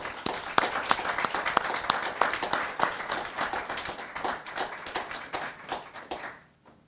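Police awards ceremony audience claps for honored officers, with distinct individual hand claps up front over a smaller crowd's applause that gradually fades out.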